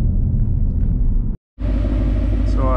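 An S550 Mustang GT V8 with long tube headers and a Corsa Sport catback exhaust gives a deep, loud idle rumble up close, cuts out for a brief moment, then picks back up.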